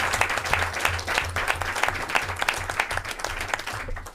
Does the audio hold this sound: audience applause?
yes